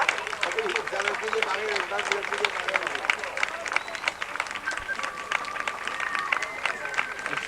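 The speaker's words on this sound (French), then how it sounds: "ne soyez pas avare de vos applaudissements" Crowd at an outdoor horse show claps in scattered, steady applause amid general murmur, while an announcer talks over it and other voices carry in the background.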